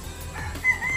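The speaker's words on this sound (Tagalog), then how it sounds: "May mga manok din." A brief, fairly close chicken call, a rising crow-like cry, sounds over low background noise.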